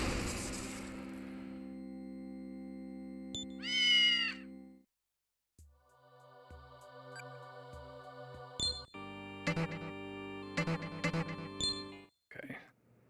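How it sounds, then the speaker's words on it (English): A cat meows once with a rising, wavering cry inside a room. It is set among soft clinks and jingles of small objects on a desk and a sustained background tone from a game. "It's being a kitty."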